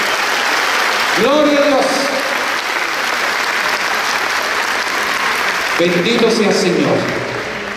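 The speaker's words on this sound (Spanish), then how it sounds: "más fuerte ese aplauso" Congregation applauding loudly at a Pentecost church service, continuous dense clapping throughout with a voice calling out over it.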